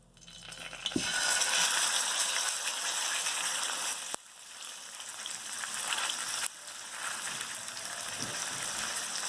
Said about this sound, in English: So now we're going to sear the pork.